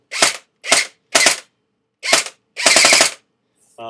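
A G&G G4A5 airsoft rifle with a 16sp setup fires with blowback in five close, loud, rapid full-auto bursts, the final burst the longest. Short silences separate the bursts and no one speaks.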